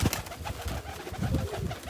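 Pigeons coo close by in low, throaty bursts, with a soft rustling background and no voices.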